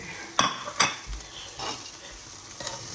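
A frying pan lifted and handled after grilling cheese, with a few sharp metallic clanks and scrapes against a faint sizzle, close by and without speech.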